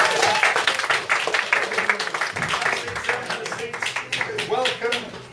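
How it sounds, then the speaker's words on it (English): Lively audience applause and cheering at a comedy gig as a gentleman is called up onstage, dense clapping throughout with voices mixed in. "Round of applause for this gentleman."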